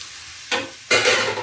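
Poppy seeds go into red amaranth greens frying dry in a pan, with two short bursts of sizzling and stirring scrape over a faint background hiss, close up and without talk.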